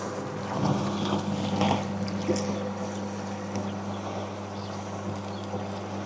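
A steady low mechanical hum drones continuously, with a constant tone beneath faint rustling and wind noise.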